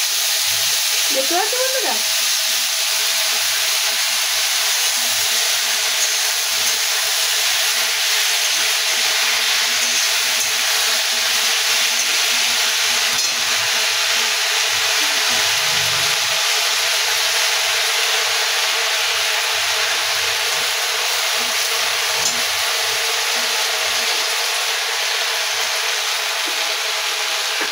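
Saag greens fry in hot oil in a pan, a loud, steady sizzle that holds evenly throughout, with a brief voice speaking near the start.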